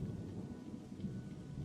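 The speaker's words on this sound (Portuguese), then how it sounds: "Imaginem só, está chovendo" Rain falls steadily with a low, rolling thunder rumble underneath, faint and distant throughout.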